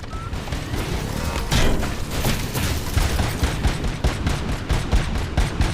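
Rapid automatic gunfire from the video game RoboCop Rogue City sprays into a wall, a loud, continuous burst of closely spaced shots with impact crashes throughout.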